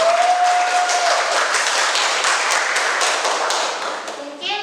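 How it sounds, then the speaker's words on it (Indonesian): Audience applause following a school presentation: a dense, steady wash of many hands clapping throughout, loud and close, thinning slightly toward the end. "Beri aplaus dulu."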